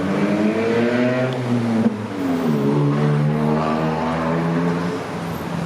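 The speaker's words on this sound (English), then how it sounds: "traffic is still moving at a relatively slow pace" Cars roll past on a Toronto street, a steady close engine drone with shifting pitch as vehicles pass and accelerate, loud and continuous with no talking.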